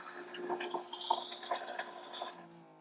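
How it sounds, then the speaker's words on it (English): Camper faucet running pink antifreeze, a close, steady stream splashing into a sink with small gurgles before it shuts off. "I let it run for a little bit until I saw a nice steady stream of pink coming out of there"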